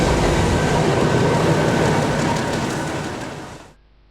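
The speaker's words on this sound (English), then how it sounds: "here comes our train" Nilgiri Mountain Railway train in India arriving, a loud steady rumble of rail noise that holds for a few seconds, then fades and cuts off abruptly.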